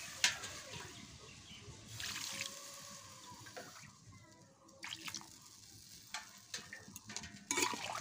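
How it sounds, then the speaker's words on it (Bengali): Water poured into a pan of pointed gourd curry with prawns, giving a soft, continuous splashing and sizzling, with a few clinks and stirring sounds over a steady background. "এরপর আমি এই পটলের মধ্যে আমি জল দিয়ে দেব। আমি আমার আন্দাজ মতো জল দিয়ে দিচ্ছি।"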